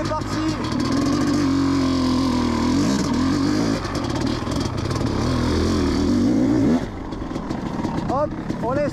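A Honda CR 500 two-stroke motorcycle engine roars loudly up close while the bike is ridden over rutted ground, its pitch rising and falling with the throttle before easing off near the end.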